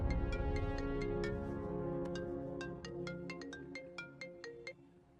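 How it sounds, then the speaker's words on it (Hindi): A phone ringtone plays a bright, plucky melody of repeated notes over a fading low drone, clear and fairly close. "बिम्बी, तुम्हारे लिए कॉल है।"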